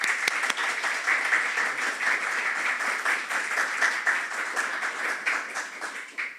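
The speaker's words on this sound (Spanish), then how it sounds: "recibámoslo con un fuertísimo aplauso" Audience applause greeting an invited speaker at a geoscience lecture, a steady, dense clapping that fills the room from start to finish and tapers slightly at the end.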